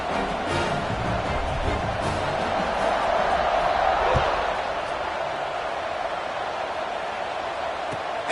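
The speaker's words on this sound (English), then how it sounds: "this crowd is buzzing after that last score" A football stadium crowd buzzes after a score in a Florida Gators game, a loud, steady roar of many voices with scattered thumps, which eases slightly toward the end.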